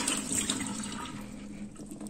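Boiled cabbage being drained of its cooking water in a kitchen, a steady close pouring and splashing stream running for about two seconds, with no talk.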